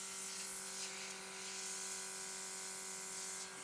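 A steady, continuous hiss of fine airbrush spray of UV gel nail polish runs without a break, fairly close and even in loudness, with a faint tonal whine beneath it.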